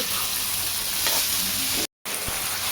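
Snake gourd (padwal) stirred and fried in a pan, a loud continuous sizzle with a few scraping stir strokes and a brief cut of silence near the end.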